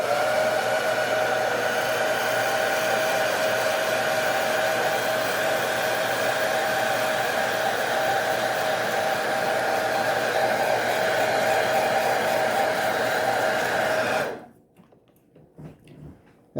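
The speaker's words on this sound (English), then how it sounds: "I've got the heat shrink on over the connector. So we'll just apply a little bit of heat to that" A heat gun blows steadily for about fourteen seconds while shrinking heat shrink tubing over a battery cable connector, a constant loud whooshing hiss with a faint whine, then it cuts off abruptly, leaving near silence.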